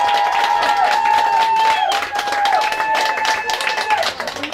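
Local football supporters cheer and applaud a goal scored just before half-time, loud continuous clapping and crowd roar filling the moment while a voice speaks over it.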